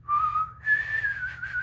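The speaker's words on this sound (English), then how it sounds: "but she was literally whistling" A female singer whistles with her lips in a single clear, steady high note that slides slightly upward and holds, close and clean with no voices over it.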